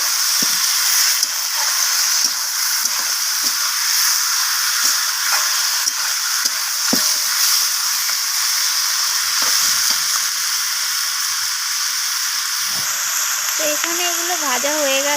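Chicken gizzard and liver frying with onions, a loud continuous sizzle broken by scattered scrapes of stirring, with a brief tonal sound near the end.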